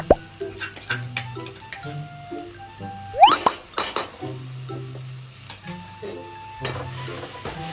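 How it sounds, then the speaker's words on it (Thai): Korat curry paste is stir-fried with meat in a pan, with a spatula stirring, scraping and clinking against the metal over a light sizzle. The strokes come in irregular bursts, close and moderately loud, with no talk. "เราก็ ใช้น้ำมันที่ ที่มีจากในเนื้อสัตว์นะครับเราก็จะผัดพริกแกงนะครับ"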